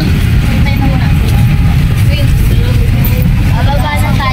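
A motorized tricycle's engine rumbles steadily and loudly up close throughout the ride, with passengers talking over the drone.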